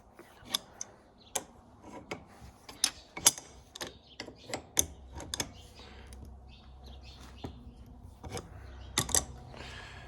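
A 7/8 wrench tightens hydraulic fittings on a John Deere 4840 tractor, making sharp, irregular metallic clicks and ratcheting ticks, some close and crisp, spread over a quiet background.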